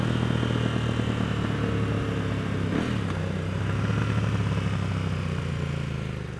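A motorcycle engine runs steadily through a Cobra Exhaust end can, a loud close-up continuous drone with a brief revving swell partway through.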